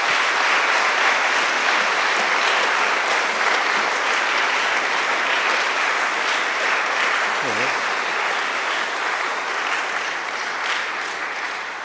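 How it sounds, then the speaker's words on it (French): Steady, sustained applause fills a church during a thanksgiving Mass for Sainte Marguerite Bays, a large congregation clapping loudly and evenly for the whole stretch before fading slightly at the end. "On permet de les applaudir, toutes ces personnes."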